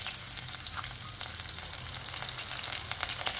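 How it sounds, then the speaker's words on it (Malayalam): Ginger and garlic fry in hot coconut oil for a Kerala-style sardine and mango curry, giving a steady close sizzle with light crackles throughout and no talking. "എണ്ണ മൂത്ത് വരുന്ന സമയത്ത് ഇഞ്ചിയും വെളുത്തുള്ളിയും കൂടി ഇട്ടൊന്ന് മൂപ്പിക്കണം"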